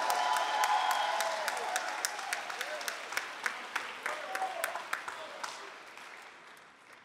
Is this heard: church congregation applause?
yes